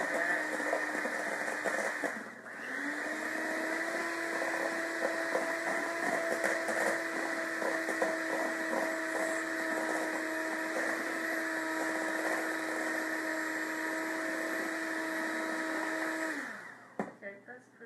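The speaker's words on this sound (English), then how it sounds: "I'm going to let it blend in this mixer" An electric mixer whirs steadily while blending lemon coconut cream pie filling, a loud continuous motor drone that starts, briefly dips, runs on for many seconds and then cuts off, with a voice occasionally talking over it.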